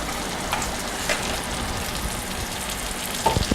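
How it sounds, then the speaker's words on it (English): Mushroom and onion mixture sizzling in a skillet, a steady soft frying hiss with occasional light scrapes from stirring, fairly quiet and even throughout. "And I'll be stirring this frequently for 5 or 6 minutes until the mushrooms are all cooked through and the onions are soft and translucent."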